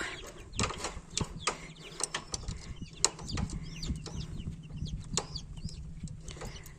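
Hens cluck and squawk in short bursts over a low steady hum, with wing flaps and scattered sharp noises, fairly close.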